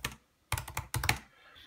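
Fingers type on the butterfly keyboard of a 2016 13-inch MacBook Pro, two quick bursts of close, crisp clicking keystrokes separated by short pauses, with no voices.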